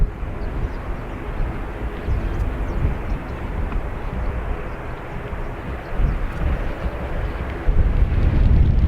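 Airliners taxiing out at Dublin Airport give a continuous broad jet-engine roar with wind buffeting, steady at a distance and swelling louder near the end.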